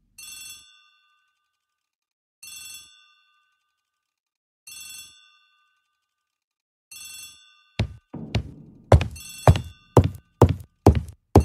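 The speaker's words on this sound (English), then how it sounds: "The telephone in the hall is ringing." A telephone in a hallway rings in four evenly spaced double bursts, clear and fairly loud, before a series of sharp thumps and knocks cuts in over further rings.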